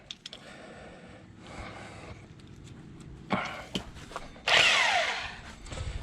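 Rotary hammer drill in hammer mode chipping a hole through a concrete block wall, heard as bursts of harsh rattling impacts with pauses between, growing louder and rougher toward the end.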